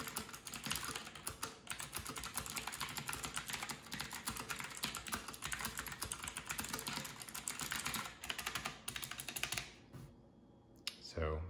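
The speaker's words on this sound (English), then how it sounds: "these are the blue keys, so they're gonna be pretty clicky. I'll just give you an idea of what they sound like." A FIODIO mechanical gaming keyboard with clicky blue switches is typed on continuously, giving a close, dense clatter of sharp key clicks that runs for about ten seconds before slowing to a few last presses.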